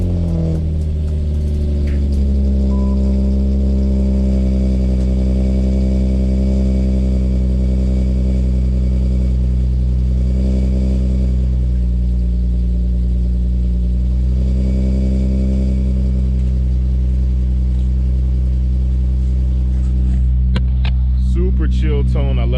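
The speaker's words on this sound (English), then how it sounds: "let you guys hear the exhaust." A Nissan Altima SE-R exhaust idles on a cold start, a steady deep drone holding close and loud for the whole stretch, with a brief clatter of handling noise near the end.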